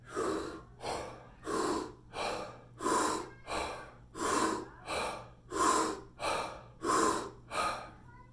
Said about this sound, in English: the first technique is going to be rapid deep breathing, just like this